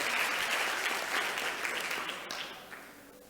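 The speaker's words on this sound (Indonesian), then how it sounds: "Oke, tepuk tangan dong." An audience at a Christmas camp church session bursts into steady, dense applause that fades gradually toward the end, with no voices rising above the clapping.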